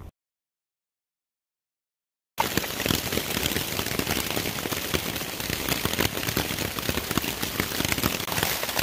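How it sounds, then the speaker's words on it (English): After a couple of seconds of silence, dense rain pours down steadily on the Appalachian Trail, a loud continuous patter with no voices. "it's been raining since late last night"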